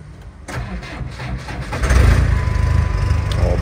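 The four-cylinder Cummins diesel in a 2007 Ford F250 XLT with 279,000 km cranks and catches, then settles into a loud, close, steady idle rumble.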